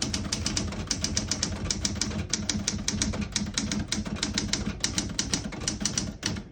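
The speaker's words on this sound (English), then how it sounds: "Beautiful typing machine. This is a very popular model." Rapid, steady keystrokes on a 1974 Smith-Corona Galaxie Twelve portable typewriter, crisp clacks in an even rhythm with a faint mechanical hum beneath, close and clear with no voices.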